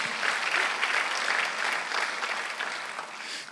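A church congregation claps together during a Sunday worship service, a steady, moderately loud wash of many hands that continues evenly throughout and ends abruptly.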